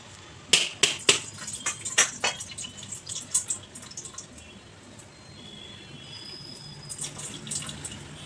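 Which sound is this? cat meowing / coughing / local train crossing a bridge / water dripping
water dripping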